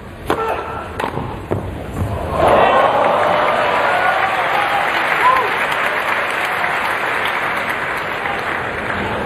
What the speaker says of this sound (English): the crowd getting behind Lopez because they want to see a match here